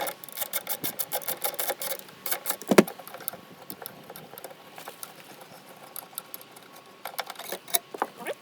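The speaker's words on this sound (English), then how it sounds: "For these two, we just need two Torx bolts undoing." Two Torx bolts are undone with a hand tool, giving quick irregular clicking and ratcheting ticks in short bursts, close and fairly quiet, with one sharper knock partway through.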